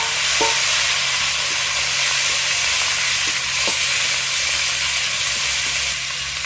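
Garlic, ginger and onion paste sizzles steadily in a hot pan, a constant broadband frying hiss with a few faint utensil taps, close and fairly loud, no voices.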